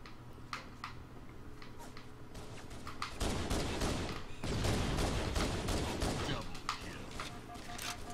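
Halo multiplayer gunfire in a Sub Wars match: bursts of rapid shots and sharp pops run through the round, growing to dense sustained fire in the middle, with commentary talk underneath.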